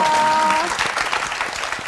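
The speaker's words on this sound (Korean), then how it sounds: "다시 한번 박수로 맞아주세요." Studio audience applauding a Thai-Korean family on a Korean TV variety show, a loud burst of clapping that starts under a brief tone and continues steadily.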